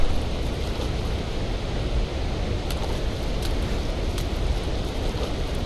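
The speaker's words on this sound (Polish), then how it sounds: "Uuu, wodospad!" Steady, dense rushing water roars without a break, broadband and fairly loud, like a waterfall in a game, with a few faint clicks on top.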